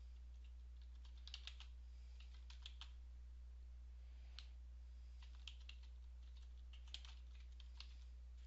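A name being typed on a computer keyboard, soft irregular keystroke clicks in short bursts over a constant low hum, quiet and close, no talking.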